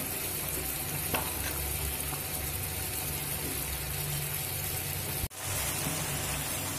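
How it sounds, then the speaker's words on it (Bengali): Spice masala sautéing in a pan for a vegetarian dal with fried vegetables, a dense, continuous sizzle with faint stirring, cut by one sudden brief dropout near the end. "তো মশলাটা একটু কষা হতে দেব।"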